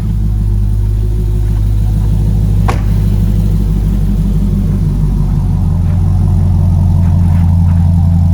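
A 2006 Chevrolet Corvette 3LT with a six-speed manual idles close by with a deep, steady, loud rumble, broken once by a sharp click.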